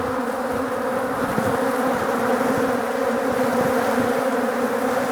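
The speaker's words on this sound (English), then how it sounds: "This is a hive I've been trying to deal with." Dense, steady buzzing of many bees swarming around a troubled beehive, continuous and close throughout with no talking.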